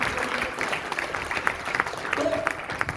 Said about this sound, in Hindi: एक बार इनके लिए एक बार जोरदार तालियां